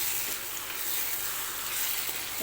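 Prawns tossed into softened tomatoes frying in a pan for a prawn thokku give off a steady, close, even sizzle with a bright hiss throughout and no talking.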